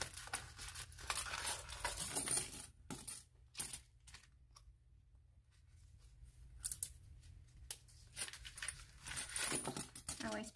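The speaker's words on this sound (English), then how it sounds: "I'm going to take all these coins out." Coins are taken out and dropped onto a surface during cash envelope stuffing, giving bursts of close metallic clinks and jingles separated by quiet pauses, with some soft handling noise between them.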